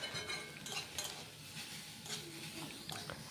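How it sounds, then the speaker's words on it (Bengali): Carrots cooking in a pan are stirred after the lid comes off, giving a quiet sizzle with light scraping and clinking stir strokes throughout, no voices. "ঢাকনাটা খুলে আমি এবার ফেরও একটু নেড়ে চেড়ে নিচ্ছি"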